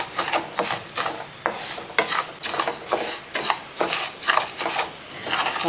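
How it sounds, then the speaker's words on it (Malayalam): Rice is stirred as it roasts in a hot pan, making repeated gritty scraping strokes in an even rhythm, close up and clear, with no voices. "നല്ലപോലെ ഒന്ന് വറുത്തെടുക്കണം ആ നല്ല ചുമന്ന് വരണം"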